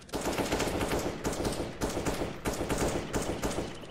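Rapid automatic gunfire in the CS:GO competitive shooter, loud continuous bursts of rifle fire with brief breaks between volleys, close up and no talk.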